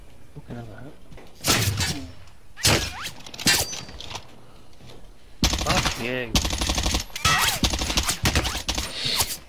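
In the video game Warzone, loud rapid bursts of automatic gunfire come in clusters, the longest rattling on for several seconds, while a voice talks over them.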